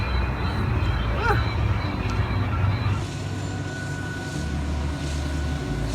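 A train rolls past near Cajon Pass on a desert stretch of the Pacific Crest Trail, a steady low rumble running throughout with wind noise and some louder clatter in the first half.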